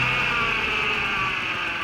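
A 2002 Ford Mustang engine running with a cylinder 3 misfire, a loud, close, continuous drone with a steady high whine and rough low rumble throughout.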